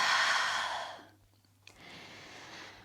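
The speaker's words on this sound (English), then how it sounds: "Taking a few deep breaths." Deep, airy breaths during a warrior 2 yoga pose: a long, loud exhale, a brief quiet pause with a small catch, then a softer, steady inhale, close and alone with no talk.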